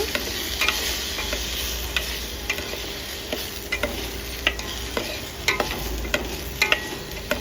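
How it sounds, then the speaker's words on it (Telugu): Tomatoes and roasted moong dal frying in a pan, a loud continuous sizzle with regular scraping taps of a spatula as the mixture is stirred, close up and without talk. "మొత్తం అంతా బాగా మంచిగా ఏగేటట్టు కలుపుతూ గెరటతోటి ఆ విధంగా వేయించుకుంటే"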